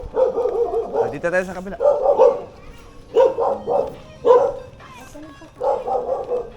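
Dog barking in short bursts outdoors, mixed in with people talking nearby.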